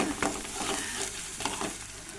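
Egg and raw banana fry sizzles in a pan while being stirred, a dense close hiss with quick scrapes of the spoon.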